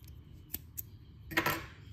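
A few quiet, brief metallic snips of scissors cutting crochet yarn, two light clicks followed by a slightly longer cut, close by in an otherwise quiet room.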